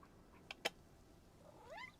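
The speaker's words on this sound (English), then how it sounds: "then he meows like that" A cat meows once toward the end, a rising then falling wail, faint and alone after a couple of soft clicks.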